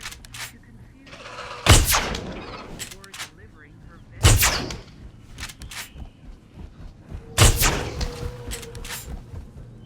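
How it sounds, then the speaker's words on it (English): Gunfire in the Jurassic World Evolution park-building game: three loud, sharp shots spaced a few seconds apart over a low hum of park ambience. "This gun is not easy to hit anything with."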